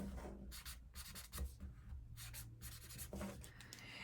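Quick scratchy strokes of a marker or crayon on paper as stripes are drawn on a paper puppet, close and quiet, in short rhythmic rubs with no talking.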